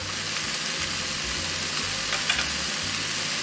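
Vegetables fry steadily in a pot with bay leaves, Goya sazón and cumin for chickpea stew, a constant close hiss and sizzle with faint stirring sounds underneath.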